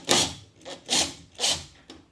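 A clamp is drawn tight on the wooden frame of a homemade Murphy bed, making four close, rhythmic rasping strokes of wood and metal rubbing, each separated by a brief pause.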